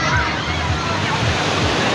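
Surf and waves at Lampuuk beach in Aceh, a broad continuous wash of breaking water, loud and close, with a voice talking briefly over it.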